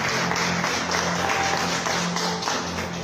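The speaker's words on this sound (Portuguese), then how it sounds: "Uma salva de palmas para Jesus." A church congregation applauds for Jesus, a steady wash of clapping running the whole time at moderate level, with a faint background hum and no speech over it.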